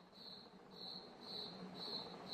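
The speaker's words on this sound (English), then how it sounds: "Why is there a cricket in my house?" A cricket chirping inside a house, faint high trilling bursts repeating about twice a second in an otherwise quiet room.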